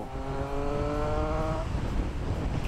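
Triumph Street Triple motorcycle accelerating hard in fourth gear, a loud rising engine whine with steady harmonic tones for over a second that then fade into broad wind and road rumble.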